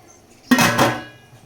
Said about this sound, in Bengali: আমি এখন ঢাকনা দিয়ে ঢেকে দিব।